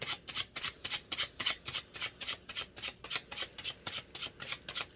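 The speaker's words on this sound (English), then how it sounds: "Weird way of me shuffling today, but this deck is being odd." A tarot deck is shuffled with a steady rhythm of soft, papery swishes, about four per second, close and quiet, with no voices.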